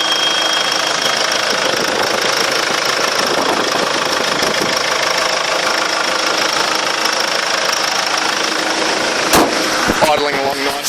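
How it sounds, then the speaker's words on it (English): A 2010 Hyundai iMax eight-seater diesel turbo idles steadily with the bonnet open, a loud, close, continuous engine rumble with a faint knocking texture throughout, and a brief clunk near the end. "Idling along nicely there."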